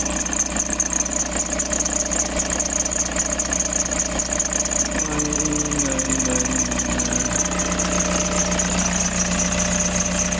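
A Toyota HiAce Grandia van engine idles with a constant knocking rumble and a shrill squeal from a wet drive belt; a low warbling tone drifts in partway through.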